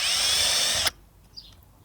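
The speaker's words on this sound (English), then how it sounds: "We'll drill a hole in where I made that cross now." A power drill bores a hole through wood for a homemade garden plant stand, a loud steady whine that cuts off abruptly, followed by a brief faint clatter and quiet room tone.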